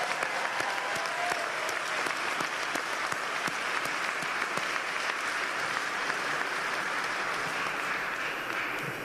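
Sustained audience applause for a city parks and recreation team during a mayor's State of the City address in Richmond, dense and steady from start to finish, with no talking over it.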